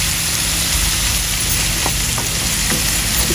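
Eggplant, both dark and white varieties, stir-fried in a pan on a stove, giving a steady close broadband sizzle with a few faint scrapes of stirring and no talk.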